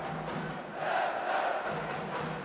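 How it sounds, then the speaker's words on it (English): A boxing arena crowd of several thousand cheering on Kazakh boxer Jakipov, a broad sustained roar of voices that swells in the middle and stays steady throughout. "you can hear the crowd here getting behind Jakipov"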